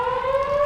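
Civil defense emergency siren sounding during its monthly test, a loud sustained steady wail with a slowly rising pitch, heard alone for under a second.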